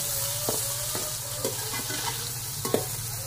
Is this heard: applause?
no